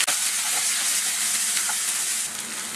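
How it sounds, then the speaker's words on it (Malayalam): Onions, crushed chili and curry leaves sauté in hot oil for a prawn and ridge gourd stir fry, giving a steady, loud, close sizzle and hiss throughout with no talking. "ഇനി ഇതൊന്ന് വഴറ്റിയെടുക്കണം."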